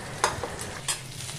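Chopped tomato stirred into frying onion and chilli in a pan, with a steady low sizzle and a few sharp scraping strokes of the spoon, close up with no talk.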